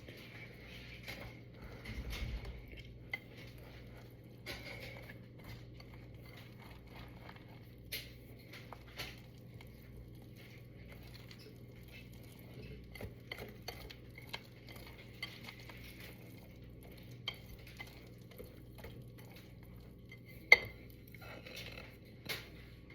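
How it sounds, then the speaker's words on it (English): A whisk beats batter in a bowl as dry ingredients are mixed into wet ones, giving quiet, irregular light clicks and taps throughout, with one sharper knock near the end. "when you're whisking it, you want to whisk it just until it's incorporated"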